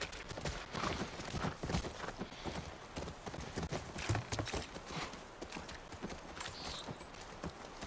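A horse's hooves clip-clop in a steady walking rhythm on a ranch in The Last of Us, close and distinct, with an occasional snort or whinny and no talk over it.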